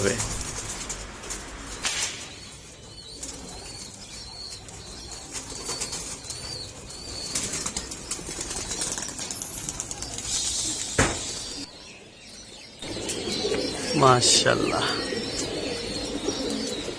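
Pigeons in a loft coo softly while chicks are let out one by one, with intermittent wing flaps and rustling, and a person speaks in the background.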